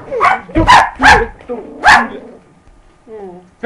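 A dog barks close and loud several times in quick succession, with people shouting over the barks, then a brief pause and a few softer whimpering sounds.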